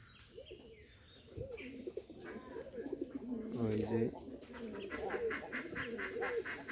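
Bombay pigeons coo nearby in repeated deep, rolling calls, some loud and close, while a voice speaks briefly over them.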